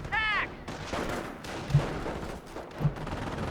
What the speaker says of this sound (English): My mortar is firing.